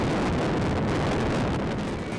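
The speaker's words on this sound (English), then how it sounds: "it's prone to dust storms that sound like this" Strong wind of a dust storm in the remote, hot, dry Australian outback, a steady broad roaring gust that blasts the microphone continuously without a break.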